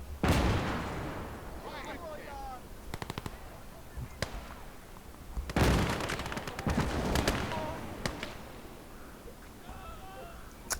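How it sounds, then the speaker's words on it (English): Anti-tank gun and other weapons firing in the WWII video game Call to Arms: Gates of Hell, heavy booming shots and bursts of automatic fire at irregular intervals over a rumbling battlefield. "this anti-tank gun that's pinging off us and has been annoying me"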